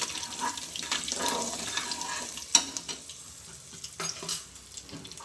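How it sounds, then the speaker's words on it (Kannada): Cumin and mustard seeds crackle in hot oil with a pinch of asafoetida, scattered pops and sputters over a steady frying hiss, one sharp louder crack near the middle, close and fairly loud. "ನೋಡಿ ಫ್ರೆಂಡ್ಸ್ ಇದು ಚಿಟಪಟ ಅಂತ ಇದೆ ಜೀರಿಗೆ ಸಾಸಿವೆ ಎರಡೂ"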